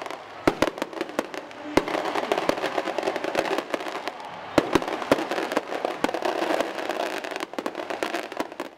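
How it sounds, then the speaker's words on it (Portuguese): Fireworks burst during a Catholic procession honoring Nossa Senhora do Carmo in Parintins, a dense run of sharp pops and crackles over a constant rumbling wash, heard from some distance without voices. "A queima de fogos durou mais de 20 minutos."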